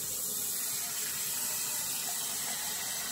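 Water streams steadily from a tap into a bowl for soaking seaweed in a home kitchen, a constant close splashing hiss with no talk.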